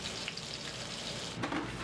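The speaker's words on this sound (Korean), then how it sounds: "노릇노릇 맛있게 구워지는 자반 고등어" Salted mackerel grills in a small alley restaurant, giving a steady close sizzle and crackle throughout, with a brief splash of water or clatter near the end.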